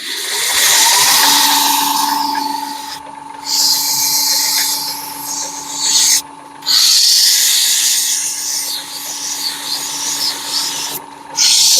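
A wooden peppermill on a lathe being sanded with 150-grit sandpaper, a loud steady rasping hiss over the lathe's whirring tone, broken by a few brief pauses.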